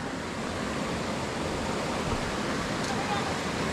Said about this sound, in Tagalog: Ay ilog pala to oh